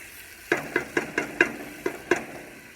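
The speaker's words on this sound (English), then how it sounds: "And stir celery and onions coming out nice." A spoon stirring celery and onions with flour in a pot, giving about eight evenly spaced scraping knocks against the pot over a faint sizzle, close up with no talking.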